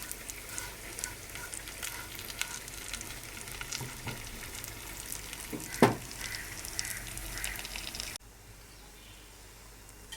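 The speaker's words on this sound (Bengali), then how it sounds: "তো কই মাছের সাথে পেঁয়াজ আর কাঁচামরিচ ভেজে নিলাম।" Koi fish frying with onion and green chili in oil gives a steady close sizzle and crackle for about eight seconds, with one sharp spatter, then a quieter low hiss after the heat drops; no one speaks.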